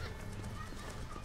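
Horse hooves clop and a neigh rises from a video-game horse, faint and steady beneath a busy game soundscape, with a player riding it.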